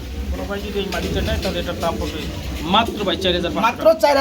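Pigeons at a pigeon farm coo softly in the background while people talk over them, a steady low murmur of birds throughout.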